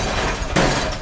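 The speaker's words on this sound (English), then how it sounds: "The television fell over, coughing up shards of glass in its last breath." Television toppling over in an apartment and its glass screen shattering, a sudden loud crash midway through a rumbling, noisy background, followed by a brief ringing scatter of debris.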